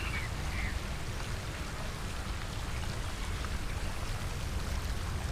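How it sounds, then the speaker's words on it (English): Steady rain falls continuously, a dense even hiss of drops with no voices, constant in level throughout. "So yeah, the rain's definitely coming in now."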